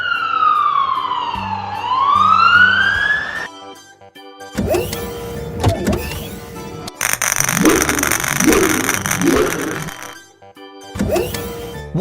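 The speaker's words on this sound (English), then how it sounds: "Black police car." A black police car's siren sweeps down and back up in a loud electronic whoop lasting about three seconds, followed by assorted clattering toy sound effects.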